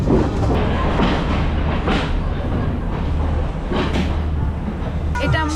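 The Odyssey tourist train in Sri Lanka, heading toward Nuwara Eliya, rumbles and clatters loudly from inside the carriage with a steady low drone and occasional metallic squeals; people talk over it.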